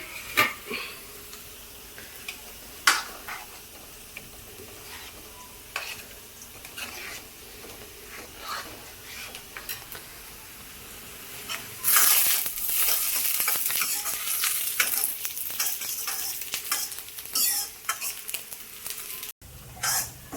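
Pakoras go into simmering kadhi in a home kitchen, followed by a spoon stirring the pot and a steady sizzle that swells louder partway through, with occasional utensil clinks and taps.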